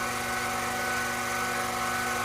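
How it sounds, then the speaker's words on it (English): Lathe turning down the outer diameter of a piece of cold rolled steel, a steady, loud whirring drone with a constant pitch and no pauses. "here I am turning down the OD"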